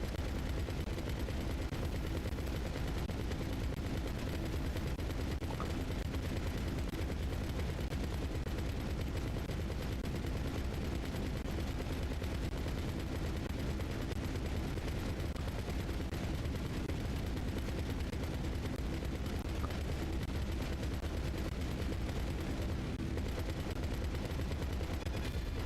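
Sustained gunfire fills a GTA Online fight against a Titan aircraft, a dense, unbroken wall of shots and rumble that stays loud and even throughout.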